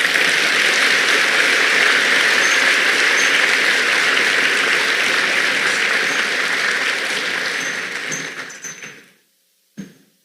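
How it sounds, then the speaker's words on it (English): Audience applause for a speaker at a NASA-themed tech talk, loud continuous clapping from a crowd that fades out near the end, followed by a brief knock. "let's give a round of applause for our good friend, Dr. Michael Barrett"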